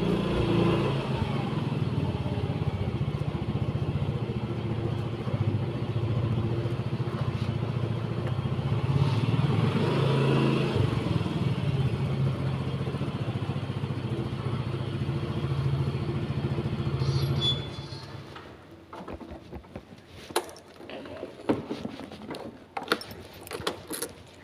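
A motorcycle engine arriving at a parking spot, a loud steady rumble for most of the stretch before it cuts off, leaving only faint clinks and clatter.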